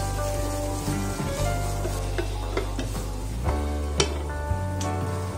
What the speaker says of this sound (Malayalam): എടുത്തു വെച്ചിരിക്കുന്ന ഇഞ്ചിയും വെളുത്തുള്ളിയും കൂടെ ഇട്ട് നല്ലതുപോലെ വഴറ്റിയെടുക്കാം.